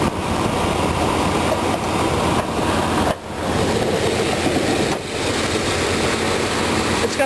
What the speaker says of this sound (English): Alright, let's check out the engine.